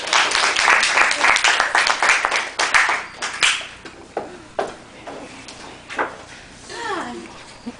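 A studio audience claps for a talk show guest, a dense burst of applause that thins into scattered claps and fades, with a voice over the end.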